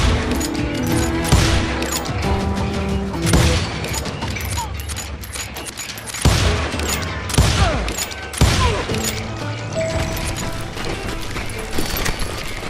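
Gunfire in the Call of Juarez video game, loud sustained volleys of rapid shots and booming blasts crowding together over a dense din throughout, close and intense.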